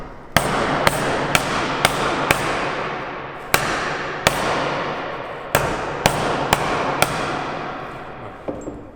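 Sharp hammer blows drive a threaded-rod anchor claw into a wall hole during storm-proofing work, a dozen loud metallic strikes in irregular bursts with ringing decay, no talk.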